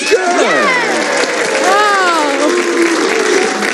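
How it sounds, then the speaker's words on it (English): Studio audience on a 1978 Card Sharks game show booing: a sustained chorus of overlapping low, wavering voices that swell and fall across the whole moment at steady loudness. "I hear some booing."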